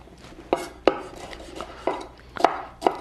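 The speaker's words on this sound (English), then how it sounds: "I'm just going to cut them down and just cut very evenly some strips right there" A knife cuts a seeded red bell pepper into even strips on a board, giving about six crisp, close taps at an uneven pace with soft slicing sounds between them.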